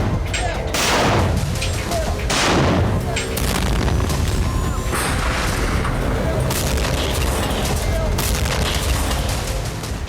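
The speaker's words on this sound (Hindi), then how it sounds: "डोनेस्क में रात के वक्त भी भारी गोलाबारी जारी है।" Heavy artillery shelling at night in Donetsk, repeated deep booms and rumbling blasts at varied distances over a constant noisy background, with a voice talking over it.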